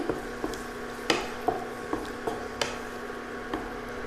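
A spoon stirs ginger garlic paste into minced meat frying in a pan, giving a series of soft scraping clicks at an uneven rhythm over a low, steady sizzle.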